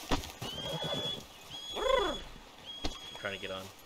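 A horse in the Red Dead Online video game lets out a loud, wavering neigh near the middle, with a shorter whinny near the end, while people talk around it.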